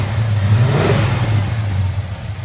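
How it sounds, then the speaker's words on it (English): Big block V8 in a 1967 Chevrolet Chevelle show car runs loud and close, a steady deep rumble with a slight swell of revving and no voices. "I do have the car running. Big block Chevy under the hood."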